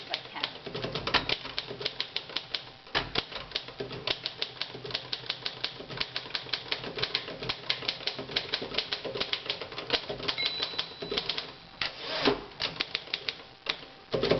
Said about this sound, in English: I'll go as fast as I can.